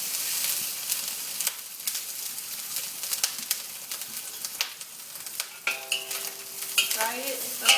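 Dried shrimps fry in hot oil with mushrooms to follow, a close, bright sizzle broken by frequent sharp crackles and stirring clicks, with a brief tonal squeak near the end.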